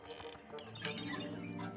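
Several fancy birds twitter in an ornate cage in the game Tangle Tower: a short run of quiet, bright chirps over soft background music.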